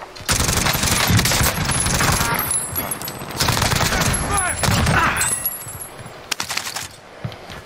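Rapid automatic gunfire from a Call of Duty Warzone battle royale match on the Alcatraz map, loud bursts and sustained fusillades filling the clip with a few sharp distinct shots near the end.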